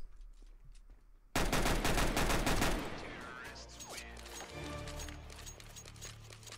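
Rapid bursts of Tec-9 gunfire ring out loudly in a Roblox Counter Blox match, a dense volley that opens abruptly and then trails into quieter in-game noise and scattered shots.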